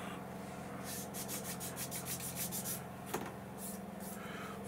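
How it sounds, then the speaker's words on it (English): A fine sanding block worked by hand on a 1/72 scale Airfix Buccaneer model part, a rapid series of soft rhythmic rasping strokes close by with no talk. "you're just taking a fine"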